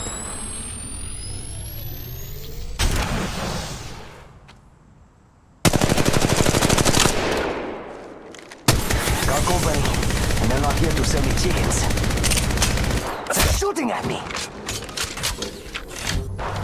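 Gunfire in Apex Legends Mobile, with loud sustained bursts of automatic weapon fire broken by abrupt cuts and short quieter gaps, mixed with other game sounds.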